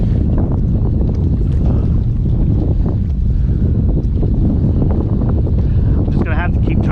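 High wind roars loudly and continuously across a microphone while kayak fishing on the open ocean, with gusty buffeting and faint water movement beneath.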